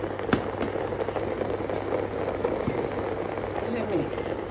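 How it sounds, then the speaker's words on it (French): A pot of fish and vegetable liboke boils steadily in a home kitchen, with a dense, continuous bubbling and crackling texture, a few sharper pops, and a low hum underneath. "Voilà, vous entendez, hein, ça bouille directement là"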